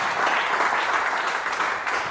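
A church congregation applauding in praise, dense and steady clapping from a crowd that fills the whole moment without a break.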